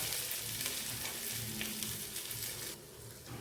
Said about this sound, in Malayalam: ഉള്ളി നന്നായിട്ട് വാടിയിട്ടുണ്ട്, ഇഞ്ചിയും വെളുത്തുള്ളിയും നന്നായിട്ട് വാടിയിട്ടുണ്ട്